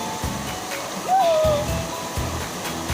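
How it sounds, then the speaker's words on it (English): Waterfall on the Lagan River at Natonin, a steady broadband rush of falling water running through the whole stretch, with voices and an exclamation over it partway through. "Waterfall here in Lagan River."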